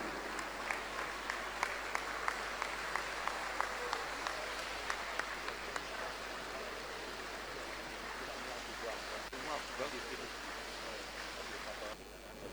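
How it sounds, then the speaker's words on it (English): Crowd applause at a football club jersey unveiling, dense sustained clapping with a few sharper claps early on, steady and moderately distant, fading slightly near the end. "Please, a big round of applause."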